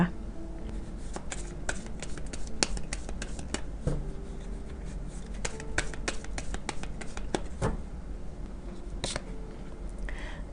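Oracle cards for a tarot reading are drawn, shuffled and flipped over, giving a steady stream of crisp papery flicks and slaps up close. Each card snaps sharply as it turns, and there is no talking.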